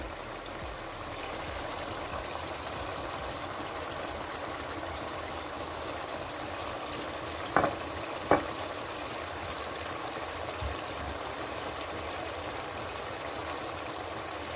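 Meat for aloo gosht is stirred in a hot pan after salt, red chili, turmeric and coriander powder go in, giving a steady, even sizzle throughout with two sharp clicks close together near the middle. No one speaks.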